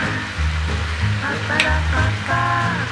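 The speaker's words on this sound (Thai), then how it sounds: "ถ้าชิมเรียบร้อยแล้วเติมเหล้าจีนลงไปนิดหน่อยค่ะ ใส่ลงไปเลย" Chinese cooking wine splashed into a hot pan of holy basil sauce for crispy snakeskin gourami, giving a steady loud sizzle with a brief sharper hiss midway, over a low continuous background hum.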